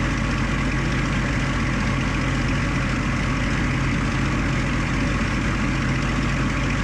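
Light aircraft piston engine running at low RPM in flight, a steady loud droning rumble with a low throbbing pulse, constant throughout with no talk.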